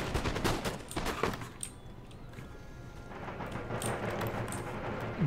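Long riflemen firing massed musket volleys in Empire Total War, in a United States campaign battle: dense, crackling rounds of gunfire that roll on without pause, mixed with deeper booms throughout.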